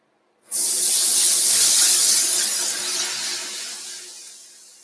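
Tap water bursts on at full force onto a hot cooking pan, a loud hissing spray with steam that holds steady for a few seconds, then eases slightly toward the end. No voices.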